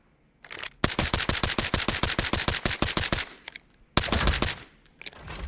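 Rapid automatic gunfire from the video game Arena Breakout Infinite: a long sustained burst of evenly spaced shots, a brief pause, then a second shorter burst, loud and close with no talking.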